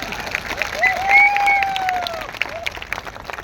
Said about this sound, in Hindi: तो फिर तालियां कौन बजाएगा?